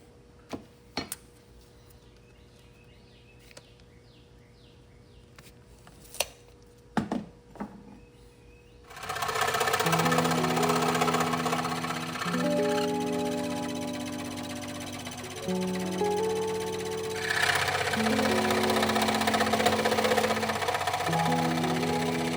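A scroll saw cuts corner notches in teak shelves. After some scattered clicks and knocks, the saw starts up with a steady, close buzzing hum that runs to the end, rising and shifting in pitch as it cuts.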